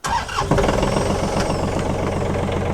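A TYM tractor engine cranks briefly, then catches and settles into a steady, loud, throbbing idle with a regular chugging pulse.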